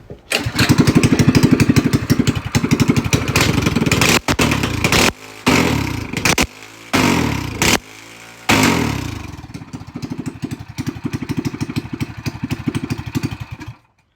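A 212/196 minibike engine with its governor removed and stock carburetor fitted sputters to life, then runs with a loud, steady mid-pitched putter. It cuts in and out through several brief stutters before settling back into a rough, even idle.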